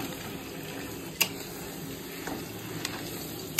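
Potatoes frying in a pan in a home kitchen, a soft steady sizzle with a few faint clinks and taps, fairly quiet throughout.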